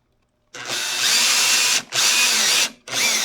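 A power drill runs on a ballscrew assembly in loud, close bursts, whirring steadily for over a second, stopping briefly, then spinning up twice more.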